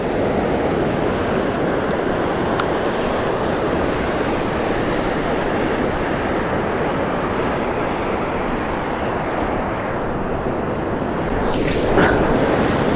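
Waves breaking on an East Coast UK beach at night, a continuous loud wash of surf with a brief surge near the end, no voices.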